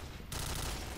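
Gunfire rattles in the online shooter Point Blank as a burst of rapid shots starts sharply after a brief lead-in and keeps up loud and dense through the rest of the moment.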